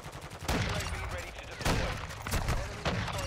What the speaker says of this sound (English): I got shot in the back